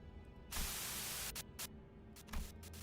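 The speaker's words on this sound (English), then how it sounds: "A sudden buzz of white noise breaks through the truck's silence." Radio static from a truck's radio in the game Limbus Company bursts in as harsh white-noise hiss, one long sustained blast followed by several short choppy crackles over a low hum.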